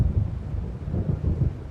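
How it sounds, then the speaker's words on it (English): Thunder rolls in as a storm approaches in the video game Alan Wake, a deep continuous rumble that swells and ebbs in low, loud waves with no voices. "It seems there's a storm coming."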